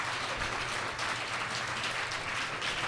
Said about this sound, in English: Can we give a huge round of applause for these two phenomenal